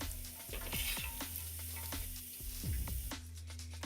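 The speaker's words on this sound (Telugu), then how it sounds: "మనకి బాగా ఫ్రై అయిపోయాయి ఇప్పుడు ఆయిల్లోంచి తీసేయాలి" Pumpkin vadiyalu sizzle and crackle steadily in hot oil, with a few scraping stirs of a spoon or slotted ladle against the pan; no talking.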